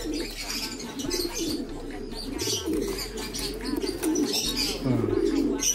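Pigeons in a loft give repeated low, soft coos close by, mixed with some chirps, a bit of rustling and a faint flutter of wings, with no one speaking.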